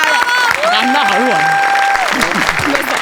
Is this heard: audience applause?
yes